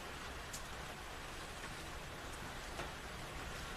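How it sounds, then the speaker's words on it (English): Rain falls in a steady, soft hiss with scattered louder drops, fairly quiet and unbroken, with no voices. "Love the sound of rain."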